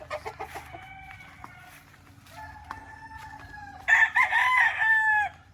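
Gamefowl roosters and hens at a game farm, with a run of clucks at the start, then several loud, close cock-a-doodle-doo crows, the last one the strongest and nearest.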